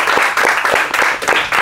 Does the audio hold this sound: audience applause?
yes